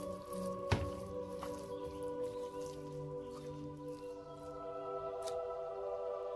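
Raw chicken is mixed by hand with spices, masala and ginger garlic paste, making soft, wet squishing and squelching sounds close up, with a sharper slap early on and faint music underneath.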